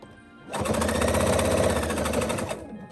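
A sewing machine back stitching on a Christmas pillow runs in one steady, close burst of rapid stitching lasting about two seconds, alone with no talk.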